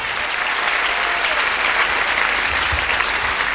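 A church congregation gives sustained, dense applause at a revival service, a steady wash of many hands clapping throughout with no break.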